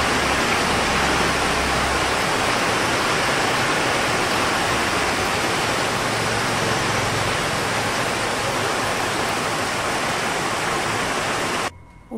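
Heavy rain pours down steadily in a dense, loud, continuous wash that fills the whole scene without a break, cutting off abruptly just before the end.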